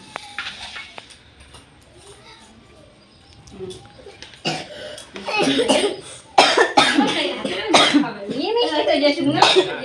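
A child coughs repeatedly in a village home, with several close coughing fits mixed in among people talking nearby.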